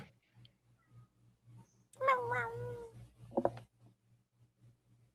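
A cat lets out a long, drawn-out meow, then a shorter second cry, close and clear over a faint repeating low hum in a quiet room.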